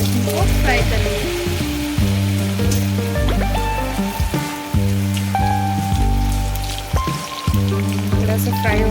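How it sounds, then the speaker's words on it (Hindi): Cornflour-coated vegetables for veg manchow soup sizzle in hot oil, a dense, crackling fry that runs throughout under prominent background music. "अब हम इसको फ्राई करेंगे। तेल हमारा गर्म हो चुका है"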